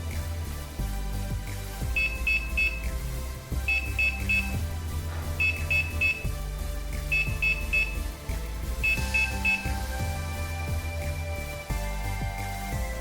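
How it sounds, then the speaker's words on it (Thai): A Philips Smart Safe Box (models 626, 627, 628) sounds its door-open warning: quick high triple beeps repeating every couple of seconds, set against louder steady background music. "เมื่อเปิดบานเซฟจะเปิดค้างได้ประมาณ 200 วินาที หลังจากนั้นจะมีเสียงเตือนให้ปิด"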